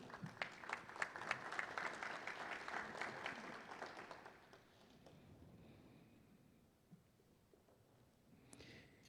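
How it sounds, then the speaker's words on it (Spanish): A conference audience at the opening of an international artificial intelligence congress applauds steadily for about four seconds. The clapping then fades to a quiet room with a few scattered claps. "Un fuerte aplauso, por favor"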